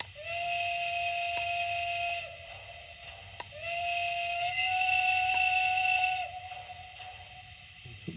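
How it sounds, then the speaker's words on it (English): A Lionel HO Transylvania Railroad Halloween Freight Set toy train blows its whistle from the remote control: two steady, electronic steam-whistle blasts, about two seconds each, with a short gap between them. It plays fairly quietly and alone over low background hum. "And we'll hit the horn or whistle."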